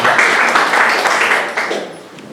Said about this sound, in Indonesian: Tepuk tangan buat G1 System.